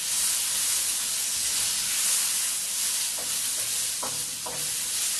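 Vegetables stir-fry in a hot wok for orange chicken, producing a loud, continuous hissing sizzle close by, with a few brief clinks of the spatula near the end and no voices.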